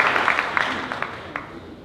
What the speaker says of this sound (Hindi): एक बार तालियां बजा दें साहब।